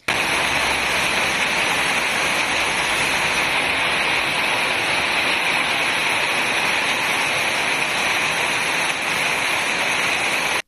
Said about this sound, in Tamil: புதுக்கோட்டை மாநகராட்சி பகுதிகளில் 2வது நாளாக மழை தொடர்ந்ததால் குளிர்ச்சியான வானிலை